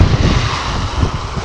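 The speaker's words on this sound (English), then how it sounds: "It's very freaking windy again." Strong wind roars and buffets steadily on the Aruba coast, a loud broad rush with low gusting rumbles and no voices.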